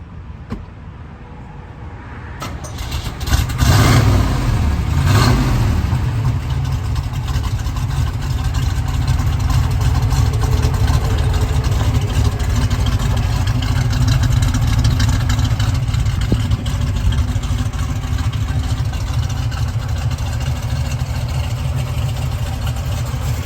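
A frame-off restored 1971 Chevrolet Camaro RS Z/28 cranks briefly, then catches and fires into a loud, rumbling, steady idle that continues close by and uninterrupted.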